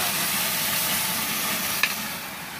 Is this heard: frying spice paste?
yes